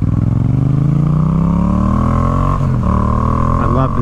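A Yamaha FZ-07 motorcycle engine with a full exhaust roars loud and close, its deep, throaty exhaust note climbing steadily in pitch as it revs up.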